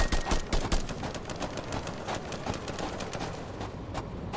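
Rapid gunfire from the VR shooter game Contractors during a team skirmish: dense bursts of automatic shots crackling close and loud, continuous for several seconds with no talking.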